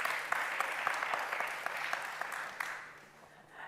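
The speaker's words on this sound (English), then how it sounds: "Let's give them a round of applause, shall we?" Audience at a World Governments Summit panel applauds the speakers, a moderate, steady round of clapping with a few distinct claps that thins out and fades toward the end.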